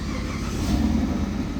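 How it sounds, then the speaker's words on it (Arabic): A 2010 Dodge Challenger with a key ignition starts up remotely, its engine turning over and settling into a steady, loud rumbling idle close by, with no talking. "مثل ما تلاحظون راح تشتغل السيارة"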